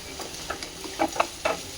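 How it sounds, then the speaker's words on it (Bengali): Potatoes and beans fry in a pan with a dried red chilli tempering, giving a soft sizzle broken by several quick scraping stirs of a spatula. "শুকনো লঙ্কা ফোড়ন দিয়ে আলু আর বিনস দিয়ে দিচ্ছি"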